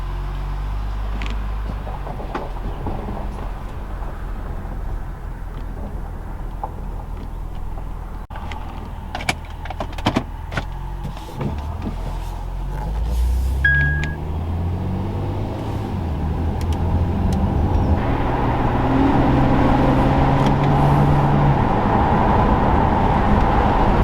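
Honda Crosstour fitted with an aftermarket intake, driving on the road: a steady engine drone and road rumble that build slightly louder toward the end, with a few clicks and knocks from the cabin and no talk.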